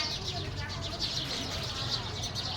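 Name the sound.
sparrows chirping near a tree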